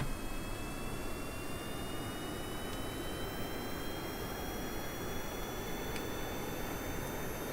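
A jet aircraft engine in Kerbal Space Program spools up for takeoff on the runway, a steady broad roar with a faint rising whine, constant and fairly loud throughout.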